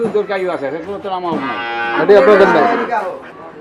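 Cows on a small Dhaka dairy farm with improved-breed milking cattle give long, loud, drawn-out moos close by, one call flowing straight into the next.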